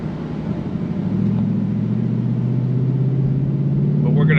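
2024 Ford Mustang GT V8 engine pulling from inside the cabin, a steady low rumble that slowly rises in pitch and loudness as the car accelerates.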